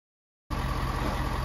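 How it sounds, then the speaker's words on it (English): A 6.7L diesel pickup truck idles while warming up, a steady broadband rumble that begins abruptly after a short silence and holds constant, close and fairly loud, with no talking. "I just got the truck warming up."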